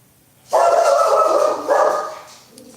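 A dog gives one long, loud, drawn-out bark or howl up close, holding for about two seconds before trailing off, with a faint clack just after; no talking.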